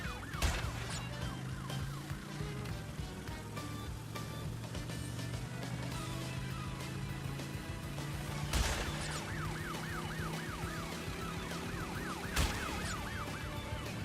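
A police car siren wails in the Crash Bandicoot racing game, its rising and falling tone cycling repeatedly over dense game music and engine noise, with a couple of sharp impact hits and no talking.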